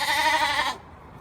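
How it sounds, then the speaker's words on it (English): Sheep bleating on a farm, a single loud, close bleat with a wavering tone lasting under a second before fading into quiet background. "Oh, sheep update."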